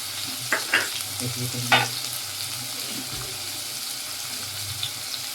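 Onion, curry leaves and salt fry for Maggi noodles, a close steady sizzle broken by a few sharp scraping stirs and clatters in the first two seconds, with no talking.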